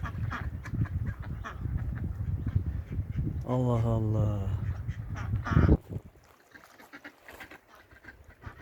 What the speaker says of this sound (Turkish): Bir sürü ördek. Bunlar uçan ördek ya.